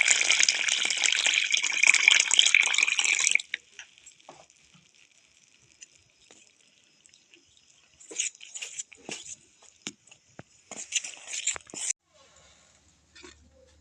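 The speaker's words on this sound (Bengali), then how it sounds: "এবারে দিয়ে দেবো এতে পরিমাণ মতন জল" Water pours into a bowl of dry batter ingredients for a sweet coconut crepe mix, a bright gushing splash for about three seconds, followed by quiet and then scattered stirring and tapping sounds.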